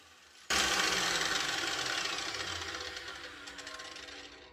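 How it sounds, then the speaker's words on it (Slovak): DeWalt DWE 4117 950 W angle grinder biting into a workpiece under extreme pressure, a sudden loud harsh grinding roar that starts abruptly and slowly eases while continuing to the end. "Teraz vyskúšame pri brúsení extrémny prítlak."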